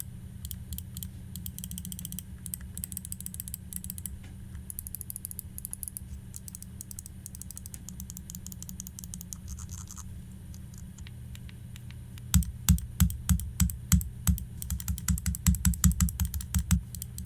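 A Cougar Airblader Tournament gaming mouse clicking in rapid, crisp bursts, first as quick light repeated taps and then as louder, sharper clicks in a steady run toward the end, close up with no talk.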